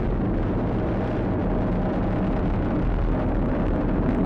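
SpaceX Falcon 9 first stage engines roaring during the CRS-18 Dragon launch, a constant dense rumbling roar with crackling texture, loud and unbroken throughout.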